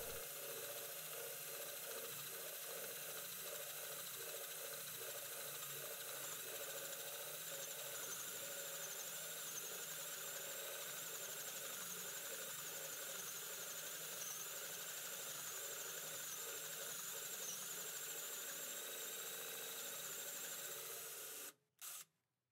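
A 35 mm drill bit bores an entrance hole through the wood of a bird nesting box for tits, a continuous grinding, whirring drone that holds steady for about twenty seconds before cutting out abruptly.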